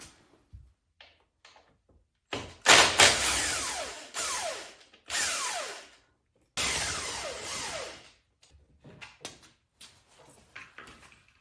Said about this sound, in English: Tank bolts coming off.